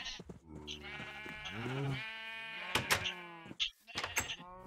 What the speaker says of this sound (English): Right, so we want to get all these sheep in here,